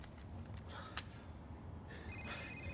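A telephone rings briefly at a low level, a couple of faint electronic trills rising out of a quiet room background.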